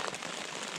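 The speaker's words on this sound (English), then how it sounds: "the rain has picked up" Rain falling in the Vermont woods during a bushcraft overnight, a steady dense patter with no pauses, heard alone for under a second.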